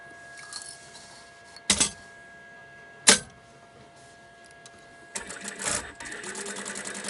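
A domestic sewing machine stitches a fabric pouch, running in short bursts with pauses and then a longer steady run, close and clear, with no talking.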